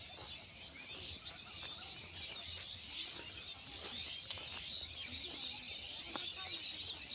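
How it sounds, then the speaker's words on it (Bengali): Birds chirping around a village among banana plants and crop fields, scattered high calls over a faint outdoor background hiss, distant and quiet, no talking. "পাখির কিচিরমিচির শব্দ।"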